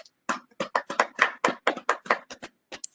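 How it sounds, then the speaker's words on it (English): Crisp, dry handclaps sound at an online meeting, about a dozen sharp close claps in a quick, slightly uneven run from a small number of people, with silence between strikes. "Let's have a big round of applause for Mahesh uncle."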